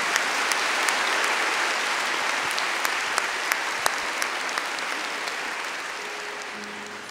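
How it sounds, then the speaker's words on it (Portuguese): A church congregation applauds during Mass, a dense, steady wash of clapping that holds level for the whole stretch, with a few sharper individual claps standing out. "Vamos aplaudir a palavra do Senhor"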